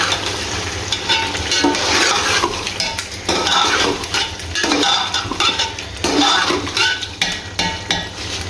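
One kilo of raw chicken is mixed in a cooking pot for chicken pulao, with steady scraping, stirring and clinking of a spoon against metal over a faint sizzle, continuous and close with no talk.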